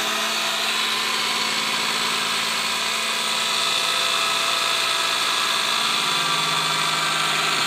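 An alternator driving a Meyer tube cell in a gas-producing electrolysis setup runs as a steady, loud, broadband mechanical whine and hum, continuous and unchanging throughout with no voices.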